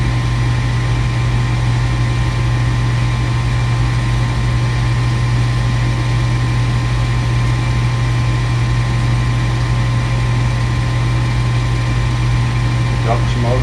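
A furnace induction draft motor runs with a steady, even hum and whir that holds unchanged throughout, close and continuous with no breaks.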